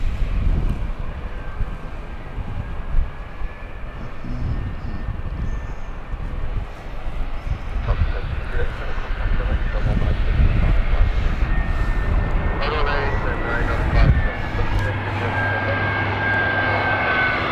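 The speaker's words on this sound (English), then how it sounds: "That's an EasyJet inbound, Basel." An EasyJet airliner arriving from Basel at Gatwick Airport roars steadily as it passes close by, its engine noise swelling and holding loud throughout, with a faint voice briefly in the background.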